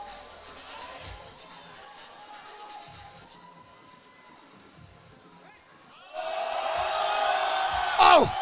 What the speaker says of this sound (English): The UK crowd, obviously, cheering for Ade, cheering for Jerns